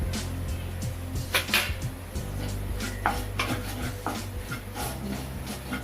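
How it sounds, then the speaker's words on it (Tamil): Masala for vegetable biryani is stirred in a pan over low flame, with repeated scraping and tapping of a spoon against the metal under a soft, continuous sizzle at close range, and no talking. "நல்லா மிக்ஸ் பண்ணி விட்டுக்கோங்க"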